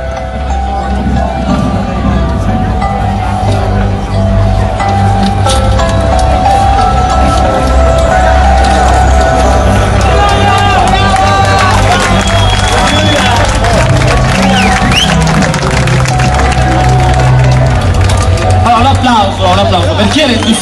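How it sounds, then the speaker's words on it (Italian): An audience at the Etna Comics 2013 cosplay contest keeps up loud, continuous applause and crowd noise while an announcer speaks over it. "facciamogli un applauso"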